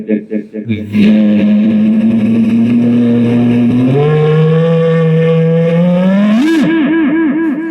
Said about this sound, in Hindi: कार का आवाज निकाल सकता है, सुनो इसे।